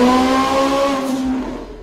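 Bentley engine roaring through a Prindiville sports exhaust, a loud, sustained, tonal rev that holds steady and then eases off toward the end, with no talk.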